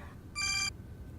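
A telephone rings once, a bright electronic ringtone burst lasting about a third of a second over a quiet room background, fairly faint and with no one speaking.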